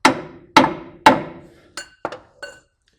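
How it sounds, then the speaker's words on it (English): Light hammer taps on the front strut of a 2006-2017 Toyota Tundra, three solid ringing metal strikes, then three fainter, shorter clinks close by and alone. "A couple taps with a hammer."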